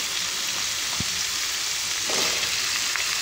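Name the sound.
okra added to hot pan, sizzling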